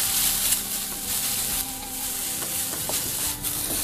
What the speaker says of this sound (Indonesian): Panaskan sedikit minyak lagi, tumis bawang putih dan jahe.